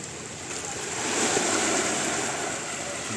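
Strong wind roars steadily at a seashore beside beached boats, a continuous broadband rush mixed with surf that swells slightly mid-way.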